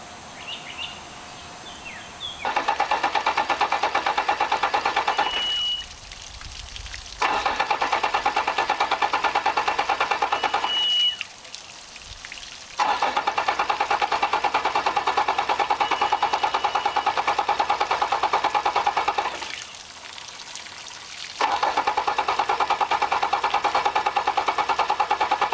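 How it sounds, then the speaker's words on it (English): An outboard motor on a pontoon boat, cranked after long disuse, runs in long loud buzzing bursts, cutting out several times and restarting, with faint birdsong in the background and no talk. "This motor hadn't been cranked in quite a while, so let's see what happens"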